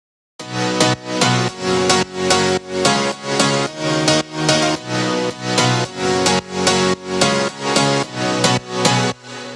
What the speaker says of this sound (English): For this track we will start with a big piano.